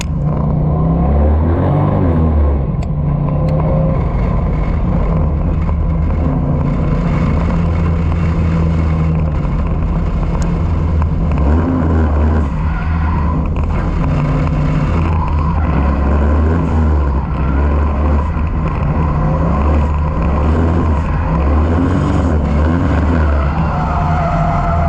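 A drift car with electric steering, an engine choice of four-cylinder, turbo V6 or V8, revs hard in a continuous loud roar with fluctuating pitch and tyre skid noise throughout, no talking.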